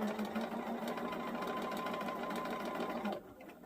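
A sewing machine stitches through a thick piece of fabric with a steady, even whirring drone close up for about three seconds, then stops abruptly.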